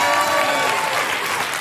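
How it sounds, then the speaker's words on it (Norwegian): A studio audience on a Norwegian TV talk show breaks into steady, dense applause, fairly loud and continuous for the whole moment. "en applaus til Rune"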